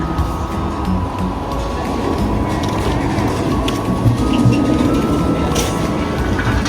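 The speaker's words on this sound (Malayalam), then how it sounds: "ട്രാം വരുന്നുണ്ട്." A tram rolls in with rattling, clanking mechanical noise and a steady hum, heard fairly close amid faint background chatter.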